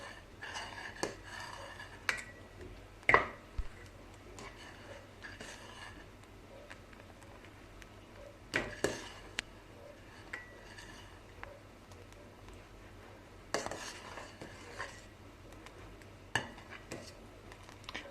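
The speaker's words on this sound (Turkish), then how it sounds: "Bunu da güzelce karıştıracağım." A spoon stirring two packets of vanilla into rice pudding (sütlaç) in a pot, heard as faint, scattered metallic knocks and scrapes spread over a quiet background.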